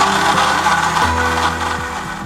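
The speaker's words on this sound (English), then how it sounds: "Cap that off and blend until everything is integrated." A blender whirs through a strawberry daiquiri of strawberries, lime juice, simple syrup and water, a loud, close, dense motor roar whose pitch shifts as the contents churn, with no speech.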